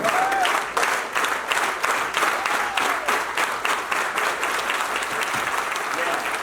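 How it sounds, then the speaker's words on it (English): Banquet crowd at an alumni dinner clapping loudly and continuously, dense applause with faint crowd murmur and a brief cheer-like voice early on, steady for several seconds. "How about a clap? Let's clap."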